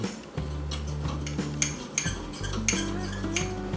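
A spoon stirs eggless mug cake batter inside a mug, giving a steady close run of light clinks and scrapes against the sides with no talking.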